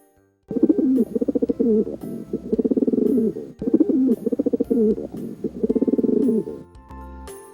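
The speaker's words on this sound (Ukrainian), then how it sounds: "Це голуб." Pigeon cooing in repeated throaty phrases, two long bouts with brief pauses, close and clear with no talking.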